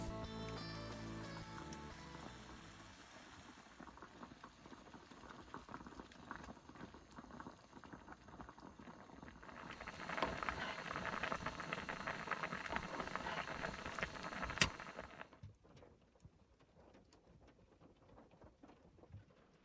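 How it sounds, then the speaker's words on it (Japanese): Yellowtail fillet and collar with daikon simmer in soy sauce, mirin, sake and ginger under a drop lid, giving a quiet, steady bubbling that swells midway and then fades to near silence. "そしたら落とし蓋をして煮込んでいきます"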